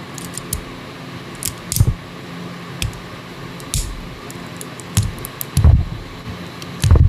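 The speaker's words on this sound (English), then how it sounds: "Let's start by taking the kit apart by major body sections." Plastic parts of an SD Gundam Zhang Fei God Gunpla kit being pulled apart by hand, with scattered clicks, snaps and soft handling knocks over a steady fan hum, closer thumps recurring every second or two.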